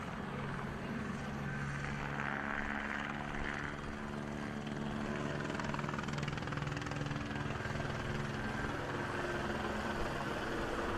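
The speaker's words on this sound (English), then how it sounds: "we got the air unit, old Tom's overhead, fucking circling" A police air unit helicopter circling overhead at a street protest in Los Angeles, a steady droning rotor and engine hum that fills the whole stretch without a break.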